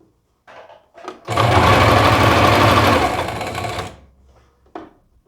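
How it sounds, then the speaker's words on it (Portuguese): A sewing machine stitching along a seam line on fabric, running in one steady loud burst of about three seconds with a fast mechanical whir, preceded and followed by brief softer handling noises close by. "E aí eu venho costurando exatamente naquela linha aqui de costura que eu fiz"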